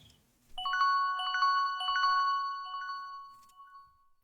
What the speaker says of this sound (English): The alarm on Diego's phone was ringing.